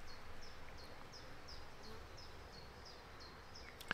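Honeybees at an open Langstroth hive produce a steady, moderately faint buzz with small repeated flight whines passing through, and a short sharp knock near the end.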